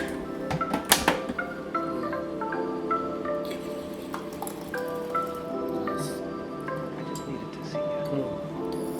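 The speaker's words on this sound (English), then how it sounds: "we're just going to pour that straight into the salsa bowl" Thick blended salsa poured from a blender into a serving bowl in a home kitchen, with soft wet plops, drips and squishy splatters over a steady hum, up close and moderately loud, with no voices.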